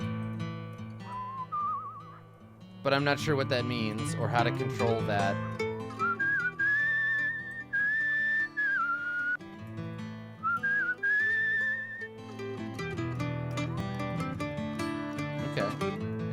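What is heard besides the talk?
character whistling while walking in Where the Water Tastes Like Wine video game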